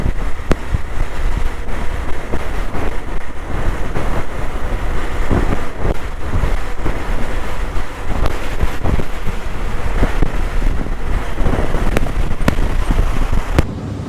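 Strong, steady wind roars and buffets against the microphone of a moving motorbike, a continuous heavy rush with occasional sharp gusts and rumbles, no talking.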